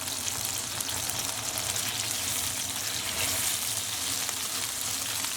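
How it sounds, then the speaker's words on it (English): A tequila lime marinated steak fries in a hot pan with a loud, dense, continuous sizzle and crackle, heard up close with no talking. "You want to hear that sizzle straight away."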